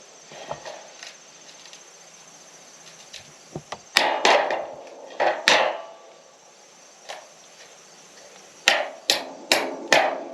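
A hammer drives a steel wedge anchor into a hole freshly drilled in a concrete base during a red iron shop build. Sharp, ringing strikes come in scattered clusters, close and loud, with quiet gaps between them.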